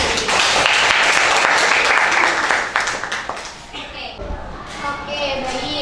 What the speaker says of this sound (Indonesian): Tepuk tangannya untuk kita semua.